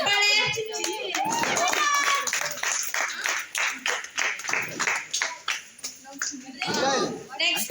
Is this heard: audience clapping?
yes